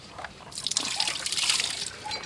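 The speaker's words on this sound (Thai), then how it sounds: "เทน้ำใส่เลยก็ได้" Water poured in a steady splashing stream, starting abruptly and continuing with bubbly trickling and dripping close by for about two seconds.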